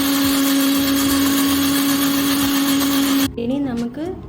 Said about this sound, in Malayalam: ഞാനിനി ഇത് മിക്സിയിൽ ബ്ലെൻഡ് ചെയ്ത് എടുക്കാൻ പോവാം.